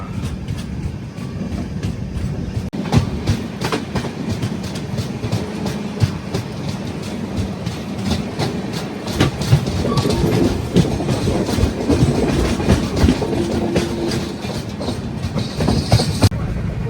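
A Tirupati passenger train rolls past close by at a station platform, its wheels clattering rhythmically over the rails with a loud, continuous rumble and occasional metallic squeals.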